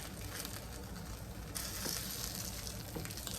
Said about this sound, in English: So you just cook this till your tortilla is nice and crispy.